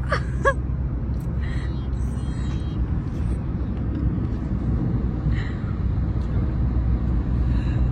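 A car drives along steadily, its engine and road rumble forming a constant close interior drone, with a few faint voices and brief high sounds over it.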